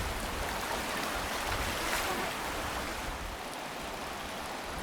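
A creek beside a riverside pool fed by hot water flows with a steady, broadband rush, close and constant throughout, with no talking.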